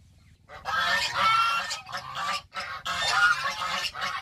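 A flock of geese honk loudly and in alarm, startled, in two long overlapping bursts of harsh calls separated by a short pause, close by with no voices.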